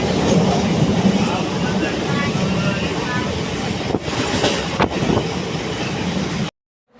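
A train rumbles along its rails toward Vashi with a loud, continuous roar and faint rhythmic clatter, heard from inside, briefly dipping twice before cutting off abruptly.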